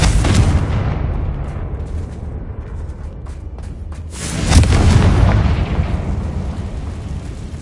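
Booming Confringo spell explosions in the Hogwarts Legacy video game, a heavy rumbling blast at the start that fades, then a second loud deep explosion midway that rolls on to the end.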